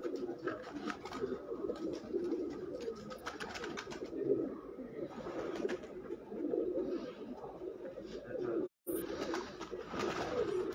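Pigeons coo from a rooftop loft, soft low rolling calls repeating in overlapping phrases from several birds nearby, steady throughout with a brief gap near the end.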